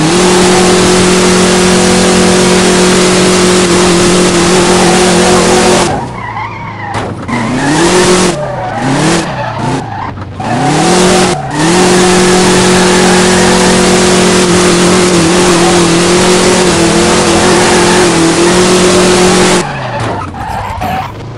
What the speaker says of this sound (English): I was trying to drift it, but we failed that drift.